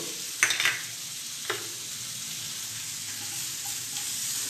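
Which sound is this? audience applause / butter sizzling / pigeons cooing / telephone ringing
butter sizzling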